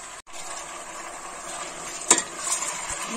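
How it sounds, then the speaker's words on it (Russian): Pieces of meat frying in butter-heated oil for kharcho soup, a steady close sizzle with one sharp clatter partway through. "Так, масло у нас разогрелось. И добавляю сюда мясо."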